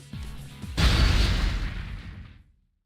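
An explosion effect shattering heavy metal restraints in the video game Persona 4 Arena Ultimate: a short whoosh and then a sudden loud burst that rumbles and fades out over about two seconds.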